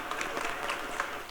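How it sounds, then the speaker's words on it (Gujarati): Applause at an inauguration ceremony: a fairly quiet patter of many hands clapping at once, with no sharp claps standing out, heard for a brief moment. "આપણે સૌ બેનને તાળીઓથી વધાવીએ"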